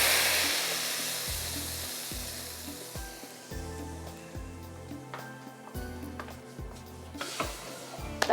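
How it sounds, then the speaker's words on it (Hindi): A tarka of hot Shahtaj cooking oil sizzles loudly as it hits Mughlai kesari kheer, a strong hissing burst that settles into a steady fizz, with rhythmic low thuds and clinks throughout. "तड़का हमने जो लगाया है शाहताज कुकिंग ऑयल के साथ, मज़ेदार तड़का"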